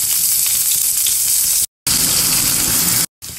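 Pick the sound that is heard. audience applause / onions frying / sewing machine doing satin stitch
onions frying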